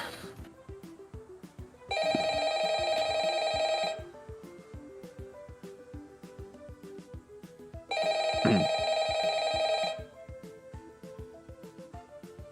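A telephone rings in Five Nights at Freddy's 2: two loud, bright ring bursts of about two seconds each, separated by a pause, over a steady ticking game ambience.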